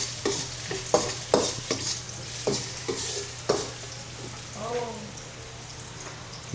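Onions frying in a non-stick pan for fried rice, a steady hiss of sizzling punctuated by repeated spatula clacks against the metal, with a brief voice near the end.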